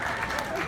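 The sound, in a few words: audience applause at comedy show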